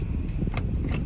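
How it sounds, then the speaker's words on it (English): A steady low car engine idles close by, with a couple of faint metallic jingles over the rumble. "I should get back and stop idling the car."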